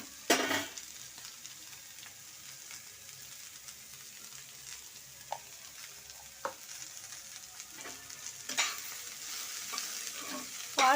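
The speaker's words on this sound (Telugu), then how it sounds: "మళ్ళీ హైలో పెట్టకుండా సిమ్లో పెట్టి వేపుకోండి." Cabbage with salt stirred and fried in a pan: a quiet, steady sizzle with scattered scrapes and knocks of the spoon against the pan, growing busier toward the end.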